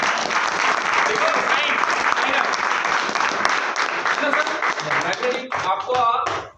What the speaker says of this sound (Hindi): जोरदार ताली, जोरदार, वेरी गुड।